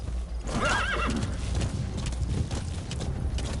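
A horse whinnies loudly near the start in Metal Gear Solid V, followed by rhythmic hoofbeats clopping along under a soft background.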